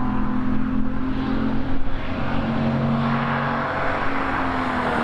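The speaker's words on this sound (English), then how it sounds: "Beautiful example of an old Holden, this one." An old Holden car roars past at a lakeside hillclimb, a loud, close engine note holding steady with a brief surge of revs partway through, then carrying on as it climbs away.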